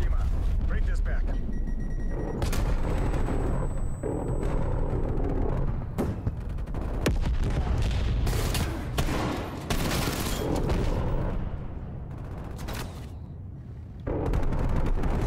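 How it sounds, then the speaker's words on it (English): Call of Duty artillery fire booms and crackles in dense, continuous barrages of explosions and gunfire. A radio-style voice and game chatter are heard underneath. "Hostile artillery targeting active. Artillery inbound."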